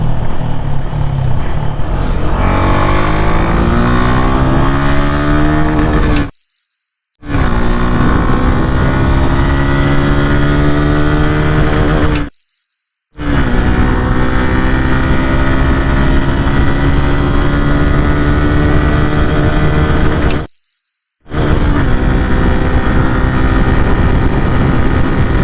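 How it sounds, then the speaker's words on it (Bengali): Suzuki Gixxer SF motorcycle making a top speed run from second gear, its engine roaring loud and close with rising pitch through each gear, broken by three brief silent gaps at the upshifts, then climbing again. "চেকপোস্টটা পার হওয়ার পর একটা টপ স্পিড রান দিব, একদম 2 গিয়ার থেকে শুরু করব।"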